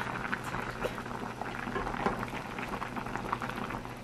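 Soup of kimchi with saury or sand lance fish bubbles at a steady boil in a pot, a dense, continuous, fairly loud simmering crackle with no talking.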